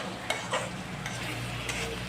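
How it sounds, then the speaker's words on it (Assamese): Masala for a broiler chicken curry is fried and stirred in oil, with a few soft scraping clicks of the spoon over a faint, steady sizzle and no talking. "গোটেইখিনি ধুনীয়াকৈ ভাজি লওঁ"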